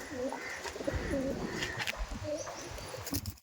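A Giribaj pigeon, just released, gives soft, repeated cooing calls near at hand over a steady outdoor background, with a few faint chirps mixed in.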